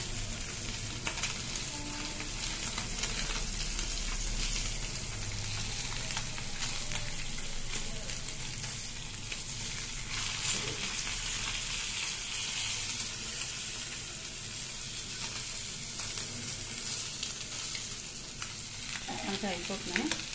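Food fries in a pan on a stove, a continuous sizzle with stirring scrapes and some splashy running water over a long stretch, no speech heard.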